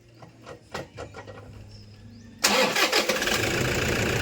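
A Toyota Fortuner engine is cranked with a few quiet, uneven turns before catching abruptly and settling into a loud, steady running roar, close by.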